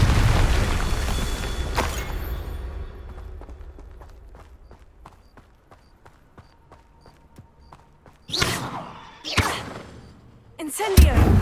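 A Confringo explosive spell cast in Hogwarts Legacy: an initial burst fading over a couple of seconds into sparse ticking crackles, then a few sharp blasts near the end, heard alone without talk.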